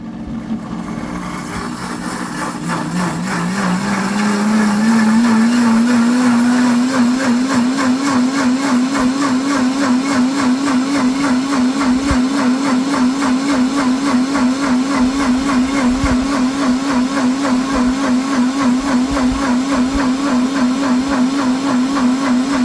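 An electric blender purees comfrey leaves into a green slurry. The motor spins up with a rising whine, then holds a loud, steady churning drone close to the microphone.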